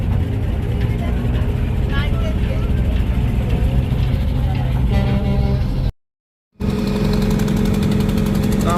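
A river launch pulls away on the Shitalakshya River with a loud, low, steady engine rumble, short horn-like tones and voices talking over it, cut by a brief gap before the engine drone continues.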